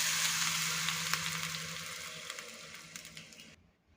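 Hot cumin and mustard seed tempering poured into appe batter gives a loud, dense sizzle that slowly tapers with scattered pops and crackles, then cuts off abruptly near the end.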